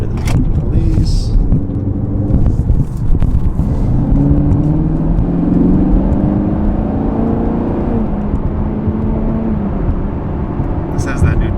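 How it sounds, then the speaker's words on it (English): A new car with a 10-speed transmission accelerates, its engine note rising smoothly and steadily in pitch as it pulls away, loud and close, with a brief higher whine near the end. "Let's turn here and do a little acceleration here real quick."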